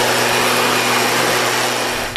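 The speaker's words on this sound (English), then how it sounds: "Part of the drill includes spraying insecticide to stop the flying foe that carries the dengue" A motorised insecticide sprayer used against dengue mosquitoes runs with a loud, steady, high-pitched whine and hiss that does not change for its whole length.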